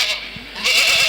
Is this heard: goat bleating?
yes